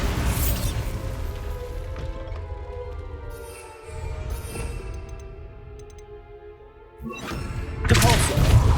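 Spell blasts from Confringo and Bombarda cast in Hogwarts Legacy, heavy booming thuds and bursts layered with game ambience and music, with a loud impact at the start and another strong burst near the end.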